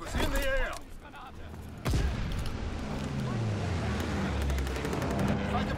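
Gunfire from a fighter aircraft on a strafing run, a quick burst of shots at the start and then a sustained roar of heavy firing and rumbling, heard alongside voices.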